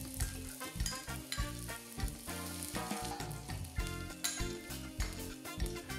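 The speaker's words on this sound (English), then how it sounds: "Fry 2 cloves of chopped garlic and about twice the amount of sliced onions." Chopped garlic and sliced onions frying in oil over medium heat in a pan, with a busy, continuous sizzle and crackle broken by frequent stirring scrapes and light clinks of utensil on metal.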